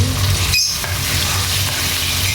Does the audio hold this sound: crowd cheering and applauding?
no